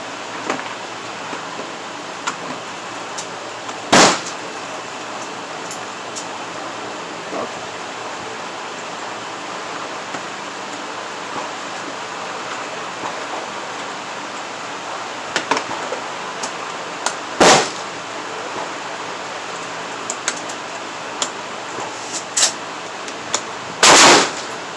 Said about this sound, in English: I shoot as fast as I could get back on target.